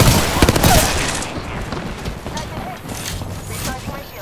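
Gunfire in the Apex Legends video game, a burst of rapid shots up front followed by scattered further shots and game effects, loud and close, with other game sounds and voice lines around it.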